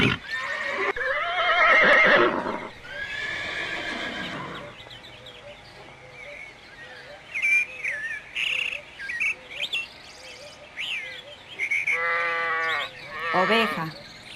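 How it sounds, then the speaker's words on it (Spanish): Farm sheep bleat in several wavering calls, mixed with bursts of other farm-animal noise and a steady background of chirping birds. "Oveja."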